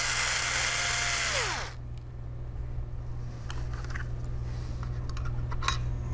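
A laptop being worked on, with Phillips screws removed from hard drive mounting rails: a short loud whirring burst of a screwdriver, then quiet scattered clicks and small handling taps over a low steady hum.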